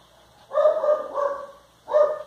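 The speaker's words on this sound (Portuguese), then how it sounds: "agora meu cachorro começou a latir" A pet dog barks indoors in two bursts, a longer run of close, fairly loud barks followed by a short second volley, with no talking over it.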